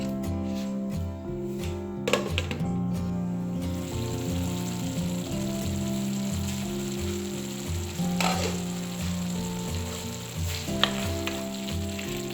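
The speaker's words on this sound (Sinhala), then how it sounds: "තක්කාලි ටිකක් තව විනාඩි 2-3ක් විතර මේ විදිහට කුක් කරගන්න ඕනේ" Tomatoes sizzle steadily in a pan for a Sri Lankan spicy egg curry, a continuous crackling fry broken by a few sharp utensil scrapes and clinks as they are stirred.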